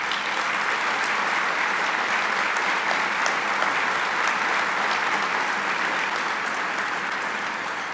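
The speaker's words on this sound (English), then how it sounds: "please give Dottie a round of applause there" A large audience at an Army Aviation Association ceremony applauds in a sustained, even roar of clapping that holds steady without voices.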